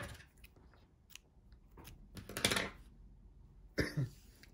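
Scissors snip through yarn during work on a doll with movable arms and legs, giving two short, crisp cuts a second or so apart, close and quiet against a faint room background.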